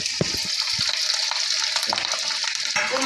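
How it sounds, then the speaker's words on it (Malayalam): Chopped garlic, shallots and curry leaves hitting hot oil beside a frying karimeen fish, a loud bright sustained sizzle and crackle with a few soft knocks, close up. "ഇത് മറിച്ചിട്ട ഉടനെ നമുക്ക് അതിൽ അതിൽ ചെറുതായിട്ട് അരിഞ്ഞ വെളുത്തുള്ളി ചെറിയ ഉള്ളി കറിയപ്പര ഇത് ഇതിൻ്റെ ഇത്തിരി ഇട്ട് കൊടുക്കാം നമുക്ക്"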